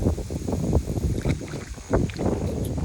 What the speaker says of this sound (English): I'm just getting blown around right now because it's windy as hell.